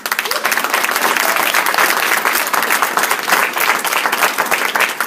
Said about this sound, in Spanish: ¿Cuánto le dan el aplauso al Señor?